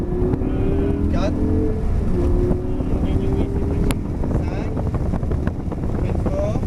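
A race car on a track accelerating hard through its gears, engine tone climbing in rising sweeps between shifts, loud and close inside the cabin under wind noise, with an instructor talking over it.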